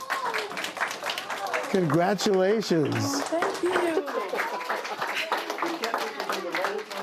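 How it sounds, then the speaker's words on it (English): Students in a classroom clap for Ms. Thompson, named Teacher of the Week, with a lively patter of many hands running under excited voices and cheers, while people speak over it. "Give her a big round of applause."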